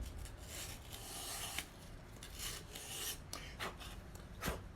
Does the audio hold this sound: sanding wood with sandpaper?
yes